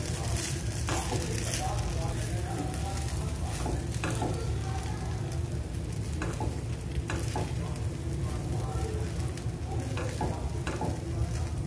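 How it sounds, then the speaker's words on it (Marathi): Rava sheera with sugar and cardamom powder is stirred in a pan, with a dense continuous sizzle, a low rumble and intermittent scraping strokes throughout. "आता यावर आपण घालणार आहोत वेलची पावडर। पुन्हा एकदा मिक्स करून घ्यायचं।"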